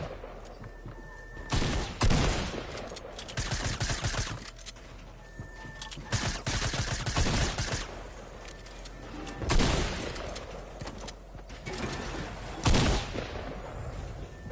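Video game gunfire aimed at a dummy during a tournament match, repeated bursts of rapid shots at moderate loudness spread across the span, separated by quieter stretches, with no talk.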